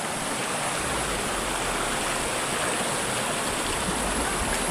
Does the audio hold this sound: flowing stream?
yes